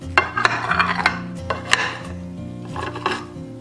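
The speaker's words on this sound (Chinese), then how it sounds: "把放凉的鸡蛋饼切成小块" A knife cuts a cooled egg pancake into small pieces on a board in a home kitchen, giving a run of close, crisp chopping taps with a low hum in the background.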